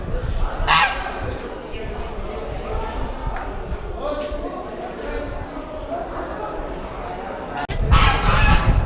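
Geese honk at a Turkistan bird market, with a few sharp calls rising above steady crowd chatter and nearby talking.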